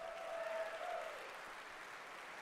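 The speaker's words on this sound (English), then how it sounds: "let's get a round of applause for that race." Faint applause from an audience after a ship race in a space game event, a soft steady patter of clapping heard at a distance.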